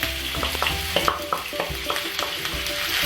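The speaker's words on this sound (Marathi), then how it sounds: "हा कांदा आपल्याला गोल्डन ब्राऊन रंगापर्यंत परतून घ्यायचा" Sliced onion sizzling in hot oil with bay leaf and star anise for an Agri-style prawn masala, a steady bright frying hiss broken by regular soft scrapes and clinks of a stirring spoon.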